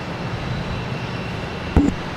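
A JetBlue Airbus A320 arriving at Boston Logan Airport makes a steady, distant jet roar, broken by a brief sharp thump near the end.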